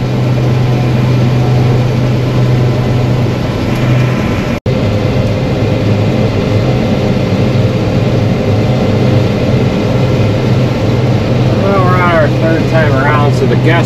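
A grain auger runs steadily while shelling corn, a dense continuous mechanical drone that stays loud throughout, with a brief dropout partway and birdlike chirps near the end.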